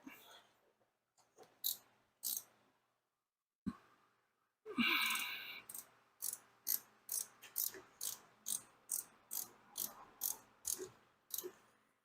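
A ratchet clicks in a quick regular rhythm while rear brake bolts on a 2008 Hyundai Elantra are tightened, with a few separate knocks and clicks before the steady run of close, crisp ratchet strokes.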